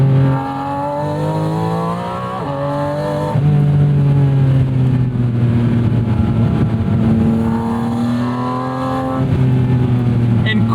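Porsche 718 Spyder engine accelerating hard on a street drive, a loud, rising rasp with shifting pitch through gear changes, heard from inside the open car over continuous wind and road roar.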